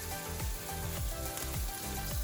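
Oil sizzles and crackles steadily in a frying pan, a dense, continuous hiss up close with no talking.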